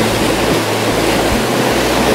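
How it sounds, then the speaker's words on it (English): Steady, loud roar of surf on a New England coast, with a broad wash of water noise throughout, waves breaking and splashing close by, no voices. "This looks like a big wave coming in. Are we getting any splashing here?"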